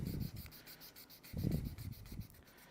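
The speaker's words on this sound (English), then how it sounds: "So I'm sanding one end off here." One end of an olive wood pen blank is sanded in short, rhythmic rubbing strokes, fairly soft and close, with no talk.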